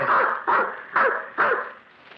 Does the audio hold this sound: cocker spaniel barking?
yes